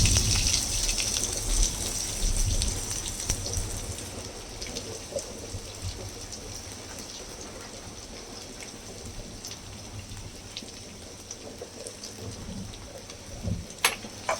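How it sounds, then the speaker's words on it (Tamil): Chopped onions sizzle in hot oil with mustard seeds spluttering, a steady hissing crackle with scattered pops, moderately quiet and close. "இப்போ கட் பண்ணி வச்சுருக்க வெங்காயத்தை இதில் போட்டுடலாம்."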